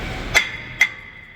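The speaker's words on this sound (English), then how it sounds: "I'm gonna use a hammer." Two sharp metallic hammer strikes with a ringing tone, spaced about half a second apart, during front brake replacement on a 2014-2020 Chevy Impala, Buick LaCrosse or Cadillac XTS. The blows are close and loud and there is no talk.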